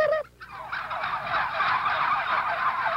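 Turkeys gobble loudly and continuously at the Cuero Turkey Trot in Cuero, Texas, a chorus of many birds close by with overlapping rattling calls after a brief opening pause.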